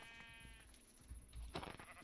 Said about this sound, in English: A woolly sheep.